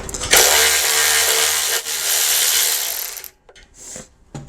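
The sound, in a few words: Milwaukee M12 cordless ratchet running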